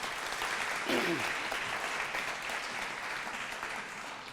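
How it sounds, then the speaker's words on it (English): A crowd at a closing event for the Mandela Washington Fellowship applauds a senator, a broad, sustained and somewhat distant wash of clapping with a brief voice rising above it early on. "Please give Senator Deeds a round of applause."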